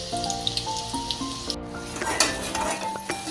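Ground masala paste with onion fries in a pan, giving a soft sizzle and occasional stirring scrapes while a steady musical tone plays in the background.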